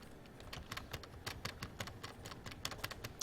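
Rapid spacebar presses on a computer keyboard, a run of sharp, close plastic clicks in an uneven rhythm of a dozen or more strikes, with no voices.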